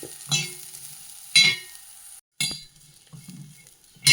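Oil sizzles softly in a pan as bitter gourd fries, while a utensil stirs and clinks against the metal several times, with brief pauses between strokes.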